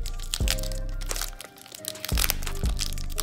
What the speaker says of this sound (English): Opening up packs of cards.